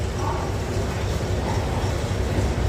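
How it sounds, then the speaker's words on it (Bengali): Train at Howrah railway station in the early morning, a steady low rumble of rail noise mixed with station bustle, continuous and fairly loud without distinct clatter. "সকালবেলায় হাওড়া স্টেশনে এসে গেছি, 6:05 ট্রেন ছাড়বে।"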